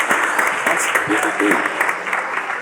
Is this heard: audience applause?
yes